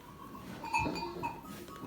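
Sheep and lambs bleating on a snowy farm, a few faint bleats rising over a quiet background, one louder call standing out midway, with no talk.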